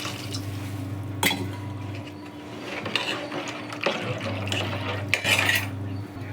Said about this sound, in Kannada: ಇನ್ನೊಂಚೂರು ನೀರು ಆ್ಯಡ್ ಮಾಡ್ಕೊಳ್ಳೋಣ.